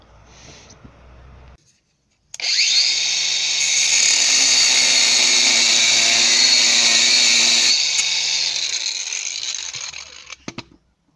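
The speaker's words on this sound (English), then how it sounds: "Got one of these, a Bosch cordless angle grinder." A Bosch cordless angle grinder fitted with a 2mm cutting disc spins up after a short pause and cuts steadily at a loud, high-pitched whine for several seconds before winding down.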